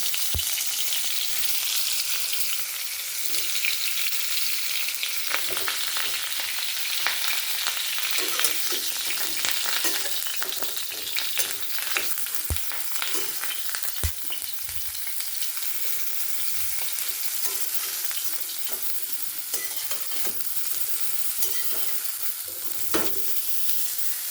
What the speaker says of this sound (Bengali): এবার ফুলকপিগুলো ভেজে নেব।